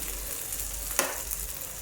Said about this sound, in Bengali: পেঁয়াজ কুচিগুলো একটু লালচে বাদামি করে ভেজে নিব